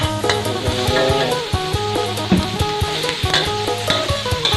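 Beef stir-fried in curry paste in a pan, with a loud continuous sizzle and the steady scrape and clatter of the utensil stirring throughout, close up and with no talking.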